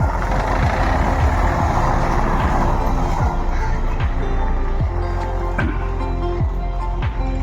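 A car being turned around and driven off: a close, loud engine hum with rising and falling revs and repeated clicking or ticking, heard alone without talk.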